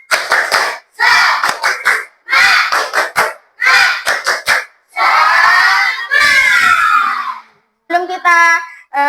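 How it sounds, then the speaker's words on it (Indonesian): Students in an Indonesian classroom perform a rhythmic spirit clap chant, bursts of group claps and shouted syllables in repeating patterns, loud and close, ending with a sung voice. "Coba tepuk semangat."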